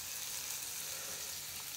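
Fish fries in a pan, a soft, even sizzling hiss that holds steady and fairly quiet for the whole moment.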